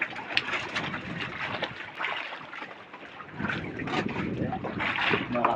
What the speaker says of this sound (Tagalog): I-start mo yung makina.